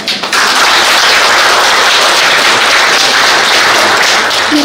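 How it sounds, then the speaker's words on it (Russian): A large audience applauds loudly and continuously at the close of a Russian Language Day event at a university, dense clapping sustained throughout. "Мероприятие завершилось громкими овациями"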